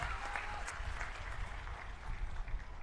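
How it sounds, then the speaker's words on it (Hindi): Dense applause from a crowd, continuous clapping at even strength throughout, no speech over it. "एक बार जोरदार ताली बजा दीजिए"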